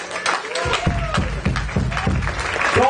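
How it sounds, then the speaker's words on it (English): Applause fills a historic, racially integrated Episcopal church in Washington, D.C., a series of distinct hand claps in a steady rhythm at moderate volume, with some crowd noise behind. "clap too loud"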